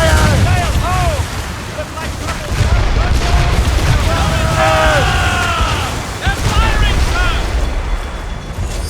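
Ship cannons firing in a naval battle in Assassin's Creed Rogue, heavy booms and bursts rolling under shouted crew voices and game dialogue, with a loud continuous din of battle.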